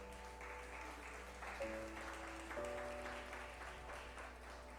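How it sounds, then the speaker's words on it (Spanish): Church congregation clapping for the Lord during a sermon, a soft, fairly even patter of hands heard at a distance over sustained organ or keyboard tones. "Yo le daría palmas al Señor por eso."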